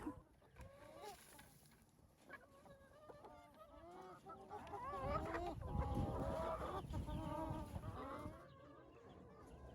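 Several baby meat chickens in a chicken tractor clucking and chirping close by, a busy overlapping chorus of calls that grows louder midway, with a low background rumble.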